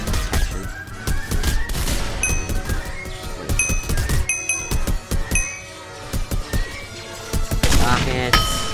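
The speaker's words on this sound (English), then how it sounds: "I just killed myself with a rocket launcher." Rocket launcher blasts and explosions in Minecraft, a rapid burst of sharp cracks and booms with clattering impacts and brief quieter gaps, loud and close throughout.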